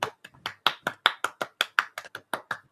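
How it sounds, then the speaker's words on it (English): A dozen or so separate claps in a loose, slow rhythm, close and fairly quiet, like one or two people clapping at home during a relaxed Sunday afternoon livestream. "Applause."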